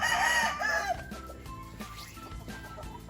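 Gray hat gamecock roosters at a game farm crow loudly up close in one long cock-a-doodle-doo, followed by softer clucks and distant calls from other fowl.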